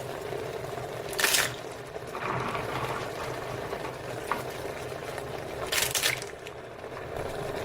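Mussels for moules marinières tumble into the heated pot of a Cookeo multicooker in two short, bright clattering pours over a steady low hum and bubbling.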